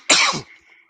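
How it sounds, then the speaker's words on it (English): A man gives a single harsh, close cough during a live fishing chat, a short loud burst that fades quickly into quiet. "Y'all gotta excuse me with this coughing"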